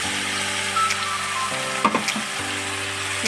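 Taro stolons frying in hot oil with shrimp and cumin, a steady loud sizzle under a low hum, broken by a few brief stirring knocks partway through.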